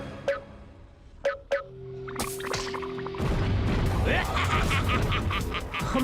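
Slug blasters firing in the Slugterra cartoon: three sharp shots at the start, then a long whooshing, roaring surge of energy that swells and stays loud to the end.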